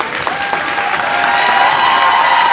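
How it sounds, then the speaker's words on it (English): Laconia girls' basketball fans applaud their Spartans at the end of the half in a gym, dense steady clapping from a crowd that swells slightly, with faint voices mixed in. "These Laconia fans are starting to clap for their Spartans here at the end of the half."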